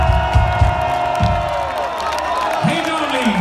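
A festival crowd at Sweden Rock Festival cheers and whoops, a loud, dense roar mixed with some clapping, while music and a voice carry over it.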